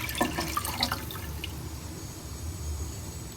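Boiled vermicelli is tipped into a strainer, and water splashes and trickles briefly up close before it settles into a softer, fading drain.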